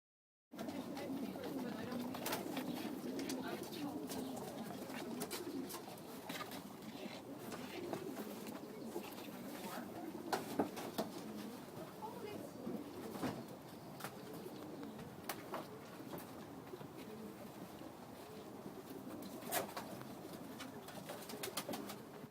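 Pigeons at a pigeon rescue coo softly and flutter in a quiet indoor space, a low continuous murmur of birds beneath people talking nearby.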